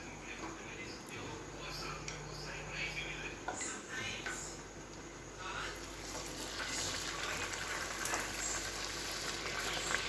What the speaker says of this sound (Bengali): এবার আমি কচুরিগুলো ভেজে নেবো